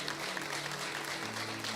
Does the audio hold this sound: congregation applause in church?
yes